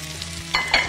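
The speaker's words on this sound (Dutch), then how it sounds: "Dan gaat het witloof erbij. Mag vrij vlug gaan," Pearl onions and endive frying in a very hot wok with Soubry wok noodles nearby, giving a steady close sizzle broken by two sharp bursts of clatter as the food is stirred, with no voices.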